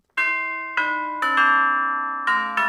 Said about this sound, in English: I'll try this doorbell.